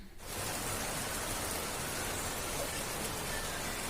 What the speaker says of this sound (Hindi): बाहर में कितनी तेज बारिश हो रही है